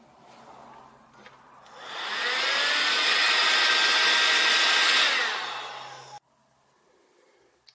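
A heat gun blows a steady, loud whoosh of hot air for about four seconds while shrinking heat shrink tubing over a wire, rising in and tapering off, with quieter handling noise before and after.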